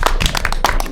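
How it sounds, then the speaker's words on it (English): Audience applause in a meeting room at a cable communications commission session, a brief burst of close, steady clapping filling the short moment with no voices over it. "Can we give him a little applause"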